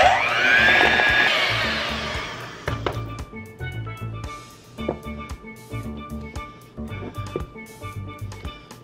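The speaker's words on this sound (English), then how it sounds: "And we blend." A blender whirs loudly through a peanut butter mixture with vanilla and powdered sugar, then the motor slows and the blades catch and thump in uneven bursts as the thick blend churns.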